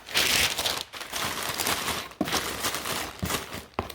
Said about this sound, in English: So we're gonna put some paper on each side.